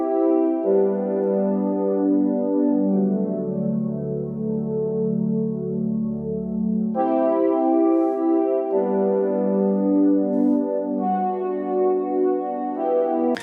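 An organ-like synth pad from IK Multimedia's SampleTank library holds sustained, layered chords as a mood-setting background, shifting harmony a few times with a deep bass tone under the first half, smooth and alone throughout.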